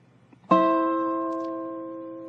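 A single dobro note pair on the 2nd and 4th strings in a reverse slant, with a sharp pluck followed by a long, ringing metallic sustain that slowly fades, close and alone.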